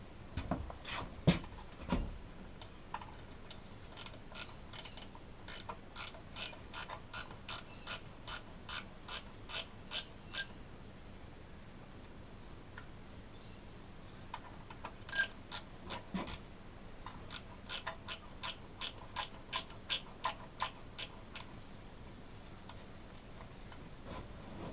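A ratchet wrench works loose a 12 mm bolt that holds a corroded, barnacle-covered anode on an outboard motor. It gives two long runs of rapid, evenly spaced clicks broken by pauses and a few heavier knocks, up close with no talking.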